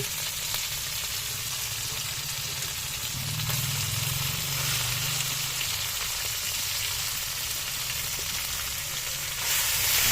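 Buro, a fermented rice, sautéed in a pan gives a steady, close sizzle with a constant hiss that runs the whole way through, with no talking.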